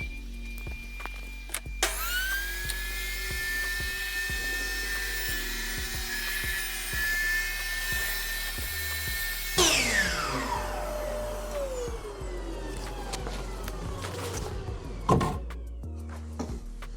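A dust extractor whines loudly and steadily during woodworking on a crooked oak board, its pitch dropping as it spins down partway, then running on with sharp tool knocks near the end.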